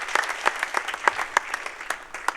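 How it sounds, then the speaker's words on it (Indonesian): A church congregation claps in brisk, uneven applause, many hands striking together close and loud for a couple of seconds without any speech over it. "Berikan tepuk tangan dong buat Tuhan."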